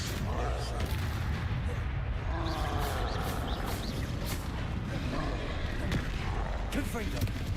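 Repeated fire spells cast in a Harry Potter video game, booming bursts and crackles over continuous dense game noise, with a voice speaking intermittently throughout.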